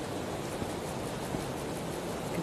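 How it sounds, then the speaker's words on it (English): Steady rushing water noise from a waterfall in the medieval VR game Medieval Dynasty VR, a constant broadband wash with no breaks, moderately loud and alone without any voices. "You can hear the waterfall."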